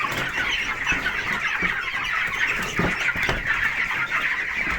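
Chickens cluck steadily and close by in a poultry enclosure, a dense overlapping chorus of fowl sounds lasting the whole stretch with no talking.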